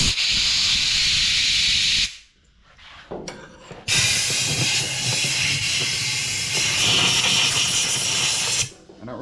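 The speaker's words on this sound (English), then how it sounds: "We're going to blow all that out with compressed air to make sure that we're starting with fresh" Compressed air blasts into a snowblower fuel tank in two long, loud hissing bursts, with a short quiet gap and a few clinks between them, close by and heard alone.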